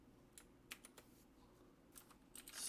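Quiet, scattered key taps on an old MacBook keyboard as a terminal command is typed into an Ubuntu server, a handful of light clicks spaced irregularly over a faint background hiss.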